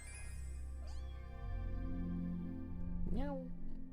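Small cartoon cat meowing in Pokemon Emerald, two rising and falling mews a couple of seconds apart, heard over background game music and a low voice.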